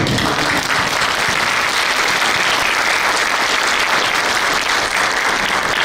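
Sustained audience applause at an academic panel session on agrarian history in Michoacán, Mexico, with dense steady clapping from a crowd, loud and continuous throughout without speech.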